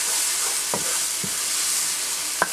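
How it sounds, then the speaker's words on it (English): Ginger and sweet onions stir frying in a pan for homemade eggrolls, a steady loud sizzle with a few sharp pops and light stirring clinks, no talking. "Stir frying."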